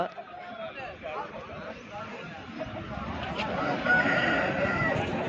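A black rooster crows amid the hubbub of a busy outdoor poultry market, with people talking close by and other fowl clucking in the background.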